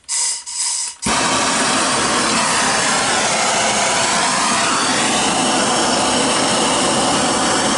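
A MAPP gas torch roars loudly and steadily, heating a crucible for melting metal in sand casting, igniting after a few short bursts and then holding a broad, continuous hiss close by.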